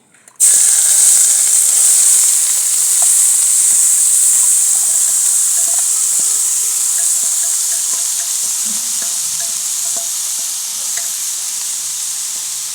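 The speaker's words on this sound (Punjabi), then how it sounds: "ਲਓ ਆਪਣਾ ਘਿਓ ਗਰਮ ਹੋ ਗਿਆ ਤੇ ਹੁਣ ਆਪਾਂ ਗਾਜਰਾਂ ਪਾਵਾਂਗੇ" Grated carrots fry in hot ghee for Punjabi gajar halwa (gajrela), giving a loud, steady sizzle and hiss that starts abruptly and holds throughout with faint stirring clinks and no talk.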